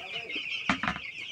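Chickens clucking inside a coop at feeding time, a few short close bursts of clucks rising over a steady background hum.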